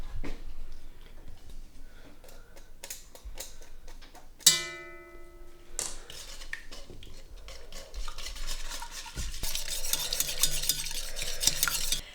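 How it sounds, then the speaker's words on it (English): Egg and ingredients whisked in a bowl for bread roll dough, with rapid rhythmic whisk strokes against the bowl, a sharp clink partway through and busier clattering toward the end, close and continuous, with no talking. "And start whisking."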